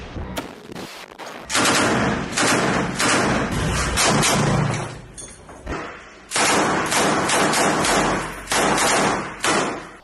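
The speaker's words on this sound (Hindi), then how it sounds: "अल-कुद्स के लड़ाकों ने एकाएक मशीन गन से आईडीएफ के जवानों पर धावा बोल दिया" Machine gun fire during an armed attack in Rafah, loud sustained bursts and rapid cracks with short gaps between volleys, close and harsh.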